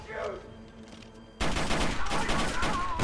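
Sudden burst of gunfire erupts partway through a tense V for Vendetta film scene, loud rapid overlapping shots filling the rest of the moment after a quieter stretch.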